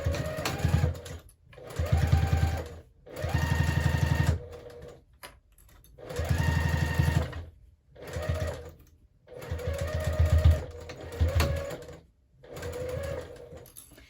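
A sewing machine stitches jelly roll fabric strips into a zipper pouch, running in about six close, steady whirring bursts with short quiet pauses between them and no talk over it.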